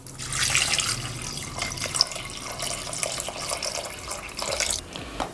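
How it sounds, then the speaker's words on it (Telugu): Water poured into spiced mutton for Andhra-style gongura curry, a steady splashing and trickling close by that runs for several seconds with small drips and spatters near the end. "సో దీంట్లో మనం కొంచెం వాటర్ వేసేసుకోవాలి."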